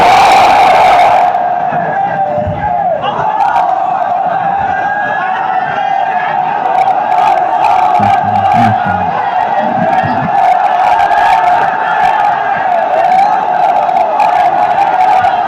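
A huge audience at a Bengali Islamic sermon gathering chants the takbir together: a loud, steady, droning mass of voices that sustains evenly for the whole stretch.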